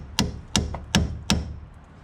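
Hammer driving a cold chisel during repair work on a petrol Peugeot 206: four sharp metallic strikes at an even pace, close and crisp, each ringing briefly before the next.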